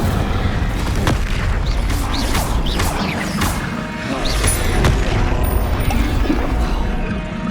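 An Incendio fire spell is cast during combat in the Hogwarts Legacy video game, a whooshing burst within a loud, dense stream of booming and mechanical battle effects.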